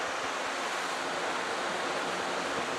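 Steady, broad rush of afternoon wind blowing outdoors in Taos, constant and fairly soft, with no voices.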